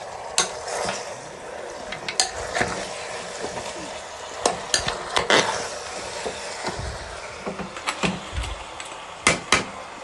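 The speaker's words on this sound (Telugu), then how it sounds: "టమాటా అంతా బాగా కలిసేలా కలుపుకొని కొంచెం వేగనివ్వాలి." Tomato masala for goat head curry being stirred in a frying pan, with a steady sizzle under repeated clinks and scrapes of a spoon against the metal, close and fairly loud, with no talk.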